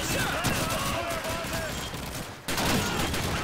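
Rapid gunfire in the World War II shooter game Call of Duty 2 at Hill 400, bursts of shots cracking in quick succession with a brief pause near the end, loud and close, with a voice talking over it.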